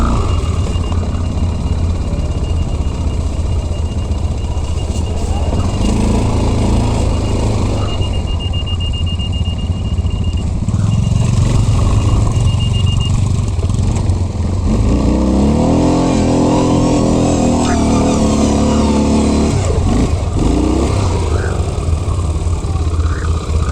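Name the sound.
ATV engine accelerating in sand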